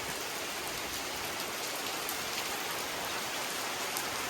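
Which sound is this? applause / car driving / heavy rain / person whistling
heavy rain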